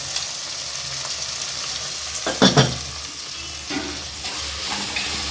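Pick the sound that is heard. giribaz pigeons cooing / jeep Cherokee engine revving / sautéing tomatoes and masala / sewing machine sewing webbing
sautéing tomatoes and masala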